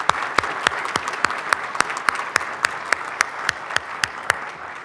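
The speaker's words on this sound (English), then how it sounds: "Let's go ahead and give our first round of applause to our outstanding students." An audience at a nursing stethoscope and commitment ceremony applauds the graduating students, with a steady wash of clapping and a few sharp, distinct claps standing out near the front. The applause holds at an even level throughout.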